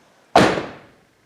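A rear driver-side door on a 2001–2007 Toyota Highlander swings shut in a single close, solid slam that fades quickly in a quiet space.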